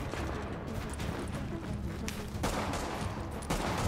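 Gunfire in the video game The Division, set in Brooklyn, a dense run of quick shots and bursts over a steady noisy bed, fairly quiet overall.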